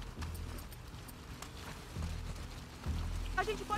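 Horse hooves clip-clopping in the video game The Last of Us Part II, a faint steady trot of hoof beats mixed with rain-like ambience and brief speech.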